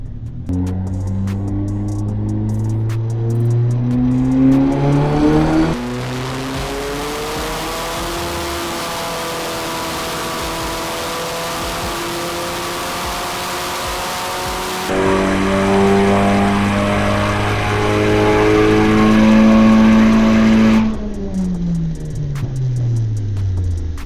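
Audi S3 on a tuning run accelerating hard through the gears, its engine note climbing in loud sweeping revs broken by shift pauses, close and continuous with no talk.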